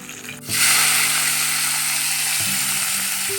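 Onions frying in oil in a home kitchen, a sudden loud hiss that starts abruptly and then holds as a strong, steady sizzle, with a faint tonal hum beneath and no talking.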